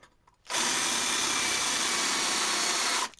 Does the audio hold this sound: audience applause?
no